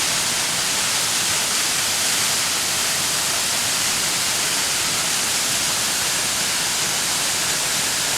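Benlister Falls, a waterfall near Lamlash on the Isle of Arran, roars as a loud, steady, broadband rush of falling water with no pauses and no voices.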